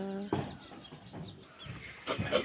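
Chickens cluck in short scattered bursts, fairly close, over a busy outdoor background.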